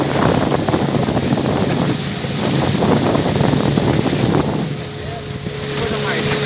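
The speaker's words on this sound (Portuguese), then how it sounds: "Olha que vento, olha." Wind buffets the microphone steadily during a boat ride on the Mogi River, a dense rushing roar with a brief lull near the end, and faint voices beneath it.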